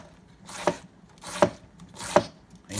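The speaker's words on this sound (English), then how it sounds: "you just wanna thinly slice down an angle like that" A knife slices thinly through a cabbage on a cutting board for saltfish rundown, giving three evenly spaced crisp chops with a soft crunch, close and clear with nothing else over them.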